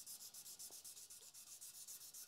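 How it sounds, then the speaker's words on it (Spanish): A skateboard wheel is sanded in a quick, even back-and-forth rhythm, a soft, close scratchy rubbing repeated about a dozen times with no talking. "Pero lo estoy lijando para que se equilibre un poquito el peso."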